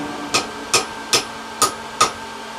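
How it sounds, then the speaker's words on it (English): Hammer blows on a steel tip held over the corner of an anvil to bend a forged grappling hook, five crisp ringing strikes spaced roughly every 0.4 seconds, close and clear. "we're going to take this tip on the corner of the anvil here and just bend that over some"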